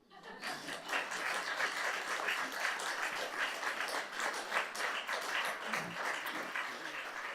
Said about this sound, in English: Now, councillors, you can now applaud.